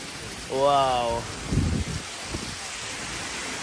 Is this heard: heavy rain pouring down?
yes